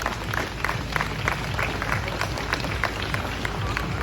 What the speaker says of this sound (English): Give them a big round of applause as they make their way up.